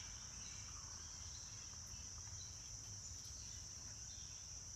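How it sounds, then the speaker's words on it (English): A constant high, shrill insect buzz drones on without pause, fairly faint and distant, with a low rumble of background noise beneath. "The cicadas aren't as loud today."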